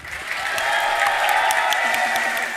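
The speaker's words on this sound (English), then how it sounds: "One more round of applause for Melty Blood." A crowd at a fighting game event gives Melty Blood a round of applause, with dense, steady clapping and some scattered cheers that last throughout the clip.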